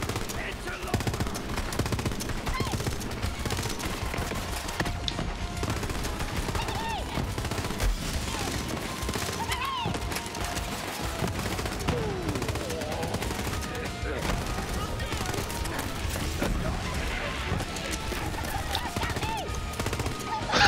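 Rapid bursts of automatic gunfire from Psycho enemies rattle through a Borderlands 3 firefight, dense and continuous, layered with other game effects.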